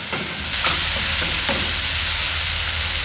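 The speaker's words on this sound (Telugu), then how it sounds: "ఇది కొద్దిగా పచ్చివాసన పోయేంత వరకు చక్కగా నూనెలో వేగనివ్వాలి" Spices fry in hot oil for a paneer curry, a dense, steady sizzle close up with occasional scraping stirs, no voices.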